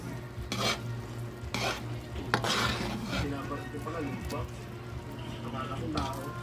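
A spoon works through thick, sticky biko rice in a pot, with repeated scraping strokes and soft, gloopy churning, while a person talks over the stirring.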